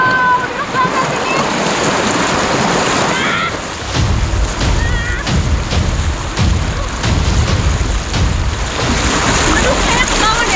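Swift river current surges over slick stones in a rainforest stream, a loud, steady rushing wash with splashing bursts throughout, close by and continuous.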